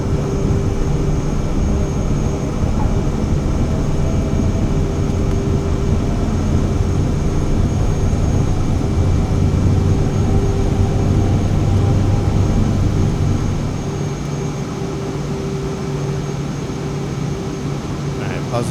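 Steady loud jet engine roar during takeoff in Microsoft Flight Simulator 2024, a continuous dense drone with faint tonal whine, dropping slightly in level near the end.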